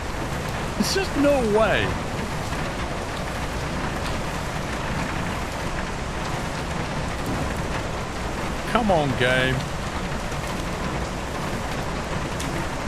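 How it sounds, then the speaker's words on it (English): Heavy rain pours steadily in the ship simulator game Seafarer, a dense, even hiss throughout, while someone talks briefly over it twice. "It's chucking it down with rain and pouring gallons of water on it every second."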